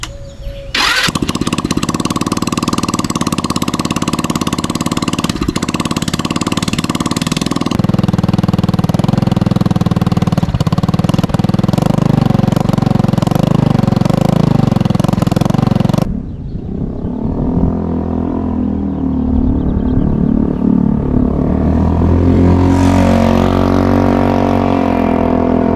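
A Honda Ruckus scooter with a GY6 engine swap and no exhaust fitted catches and runs loud and raw for about fifteen seconds. It then drops to a rougher, lower, uneven idle, close up with no talking.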